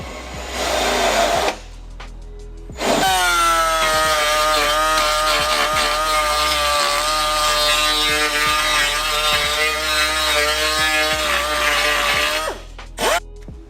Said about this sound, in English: we're going to drill it out just that little bit bigger